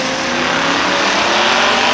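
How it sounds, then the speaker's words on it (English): A 1980 Chev pickup truck roars off the line at a drag strip, with a loud, sustained engine blast that fills the air at close range, no talk over it. "Larry Lamont, 1980 Chev pickup truck, and he's gone"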